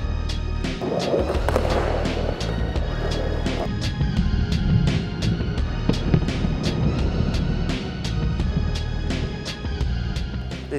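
A skateboard lands a big spin trick and rolls away, with a steady loud wheel rumble on pavement and regular clicks from sidewalk cracks passing close by.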